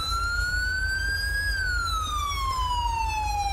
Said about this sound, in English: Alright, dude, you can turn the siren off now.